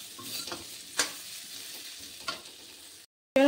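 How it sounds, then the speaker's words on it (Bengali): Potatoes fry in a pan with salt, a soft steady sizzle broken by a few spatula scrapes and knocks, then a brief cut to silence. "আলুগুলি আগে থেকে আমি একটু লবণ দিয়ে ভেজে নিচ্ছি, সিদ্ধ করে নিচ্ছি"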